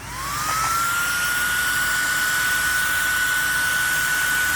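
A high-pitched whine spins up within a second and then holds steady as a loud, piercing electric fan roar with a rushing air hiss, from a high-speed 3D-printer head fan run on a 3S battery.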